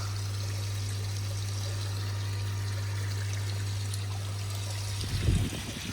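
Water pours steadily into a raised koi pond, a continuous close trickling rush with a low hum beneath, ending in a brief burst of splashing.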